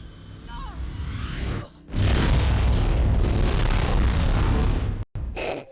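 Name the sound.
explosion in the video game Mirror's Edge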